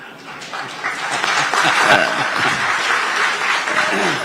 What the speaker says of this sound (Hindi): लोग बहुत ताली बजा रहे हैं